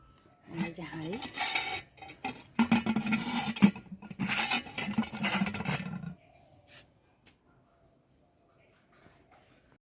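Metal cooking pots being handled beside a wood-fired clay stove, with clattering and scraping bursts for about six seconds before things fall almost silent.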